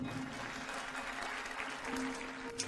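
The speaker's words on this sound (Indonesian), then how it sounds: "Mari kita sambut dengan tepuk tangan para tokoh utama." Steady applause at an engagement ceremony, a continuous even patter of many hands held at moderate level throughout, with faint voices mixed underneath.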